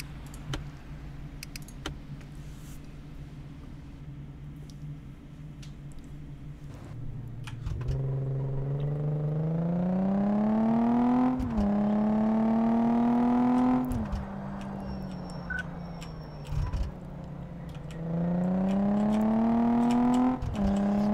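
Game car from Car Mechanic Simulator 2014, a fast hot pink racer out on a test drive, its engine droning steadily then rising in pitch through two or three accelerating runs, loud and close with no talking.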